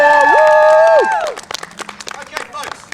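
A live show audience cheers, claps and shouts for a volunteer taking a bow. A loud sustained vocal tone slides down first, then scattered clapping and crowd noise follow.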